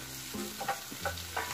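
Steak frying in a pan, a quiet close sizzle broken by several scraping stirs and utensil clinks, with no voices.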